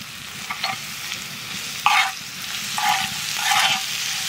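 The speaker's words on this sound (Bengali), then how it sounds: "পেঁয়াজটা ভাজে নিছি" Onion frying in a pan with salt, green chillies, turmeric and Kashmiri chilli powder, a soft steady sizzle broken by a few bright bursts of stirring and spatula scrapes, no talk.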